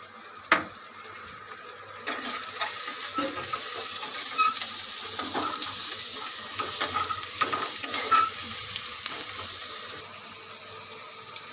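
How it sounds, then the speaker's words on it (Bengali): Onion with a little salt frying in a pan, a continuous close sizzle broken by repeated scraping and clattering as it is stirred, with no one speaking. "তো পেঁয়াজটা ভাজা হচ্ছে,"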